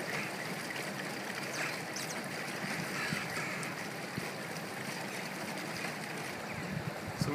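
Bottles of water holding a flushable wipe and toilet tissue are shaken, giving a steady, continuous sloshing and churning of liquid at close range, with no voices.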